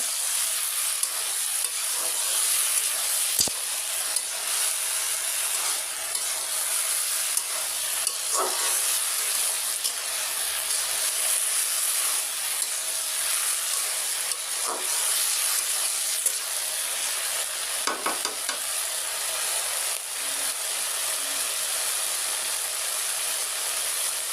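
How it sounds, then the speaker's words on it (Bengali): Curry being sautéed (kosha) in a pan gives a steady, close, hissing sizzle throughout, with a few faint stirring knocks and no voices. "রান্না করা শুরু করে দিচ্ছি কষাই নিচ্ছি সুন্দর করে কষাই নেব"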